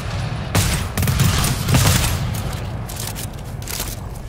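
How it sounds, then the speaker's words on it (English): A burst cannon in the video game GTFO fires in rapid, heavy bursts that blend into a dense roar of gunfire, loud and close, with further shots dropping in and out of the dense noise. "Does the burst cannon penetrate or no?"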